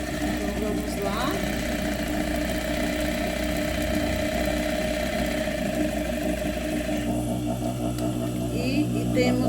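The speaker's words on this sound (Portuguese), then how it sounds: "agora nós vamos fazer aqui o teste da costura da máquina" A sewing machine runs a test stitch for a hair weave, giving a steady, loud mechanical whirring and rattling that continues unbroken from start to finish.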